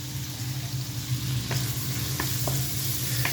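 Food sizzles steadily in a hot pan after being seasoned with salt, pepper and five spice, a continuous crackling hiss with a few sharp clicks and taps near the end and no voices.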